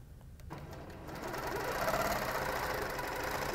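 A sewing machine stitching a quilt along a ruler base, running up and back down: a steady, fast mechanical whir with rapid needle ticking that starts after a quiet moment and holds at moderate volume.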